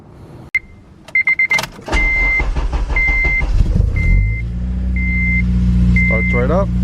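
A car's engine cranks and fires up, settling into a steady idle after a few clicks, while a repeating warning chime sounds over it and a voice briefly speaks.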